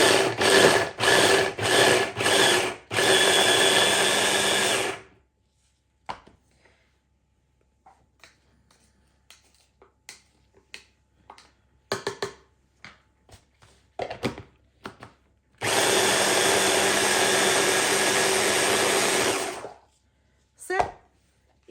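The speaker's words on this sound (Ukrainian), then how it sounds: "Цибульку порізали я складаю в блендер і перебиваю, але не до кашиці" An electric kitchen blender chops onions in short pulsed bursts, then runs in one long continuous whir later, loud and close, with quiet clicks and handling noises in the pauses between.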